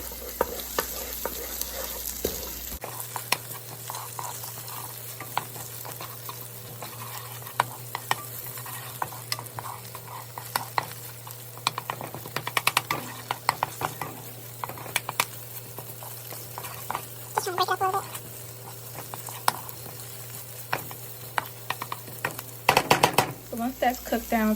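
Tomato paste fries in a pot for jollof rice, a continuous close sizzle broken by frequent spoon scrapes and clacks against the pot, with a steady hum underneath and a few brief louder knocks near the end.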